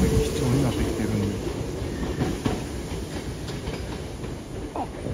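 An older Kyoto Municipal Subway train car with a roller destination sign moves through Yamato-Saidaiji station, giving steady rail clatter and rumble with faint wheel squeal, while voices talk over it.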